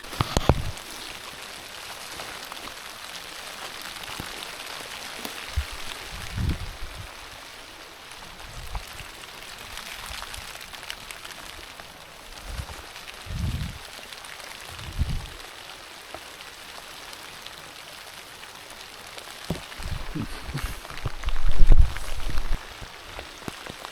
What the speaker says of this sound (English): this rain's not meant to stop either.